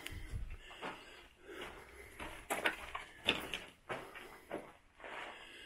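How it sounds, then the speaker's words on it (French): Old doors on the rooftop of a fort creak and knock open in a series of close, uneven bursts, several in a row with short gaps of quiet between them. "Encore ces vieilles portes."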